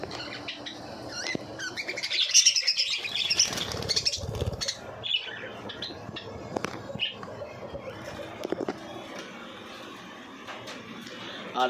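Pet cockatiels and lovebirds give scattered chirps and squawks with brief bursts of fluttering, fairly close, mixed with background rustling.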